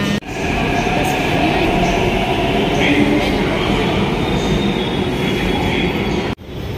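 A Hyderabad Metro train pulls into Hi-tech City station with a loud, steady rumble of wheels and rail noise that holds throughout and cuts off briefly near the end.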